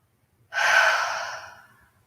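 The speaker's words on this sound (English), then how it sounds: "Take one more breath here and then let it out with an exhale" Slow breathy exhale during a yoga core flow, a single soft rush of air that swells quickly and trails off over about a second and a half, close and alone with no talk.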